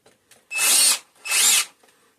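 A Harbor Freight power drill revs in two loud, close bursts of about half a second each, separated by a short pause, with a high whining motor tone and no talking.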